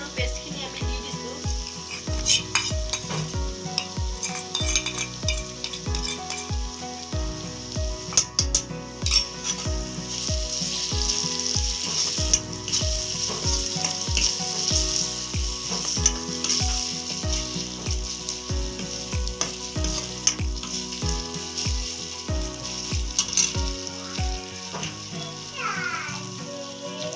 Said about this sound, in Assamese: এতিয়া আদা নহৰু পেষ্টখিনি আমি দি দিছোঁ।